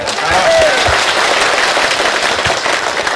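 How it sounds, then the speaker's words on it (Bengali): An audience bursts into steady, dense applause for visiting professionals at a gathering, loud and close throughout, with a few voices faintly mixed in. "আসেন আমরা করতালি দেই তাদেরকে"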